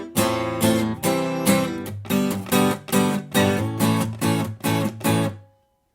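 An acoustic guitar strums a song's chorus with a steady rhythm of full chord strokes, about a dozen bright, close strums that ring under no talking before stopping abruptly.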